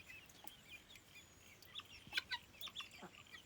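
A flock of chickens, a younger group of hens, clucks and calls in short overlapping bursts, some near and some farther off, with no talking.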